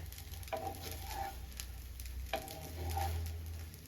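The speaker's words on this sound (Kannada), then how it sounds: "ಇದೊಂಚೂರು ಫ್ರೈ ಆಗಲಿ." Vegetable fried rice fries in a pan with a soft, steady sizzle, broken by two brief scraping stirs. The sound is faint and close, with no talk.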